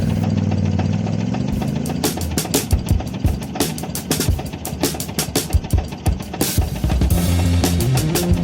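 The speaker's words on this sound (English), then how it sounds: "the tractor is still definitely running on this unbelievable stable idle" A tractor engine idles steadily with a low, even rumble and a faint knocking rhythm, heard close and fairly loud throughout, with no voices.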